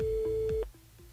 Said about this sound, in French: On appelle... on appelle Mélinda